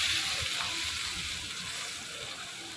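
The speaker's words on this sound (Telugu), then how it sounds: "ఇప్పుడు అదే నూనెలో నేను 1 కప్పు టమాటాలు తీసుకొని వేసుకుంటున్నానండి." Tomatoes hit hot oil and sizzle softly, a steady, fairly faint frying hiss with low bubbling underneath that holds for a few seconds without speech.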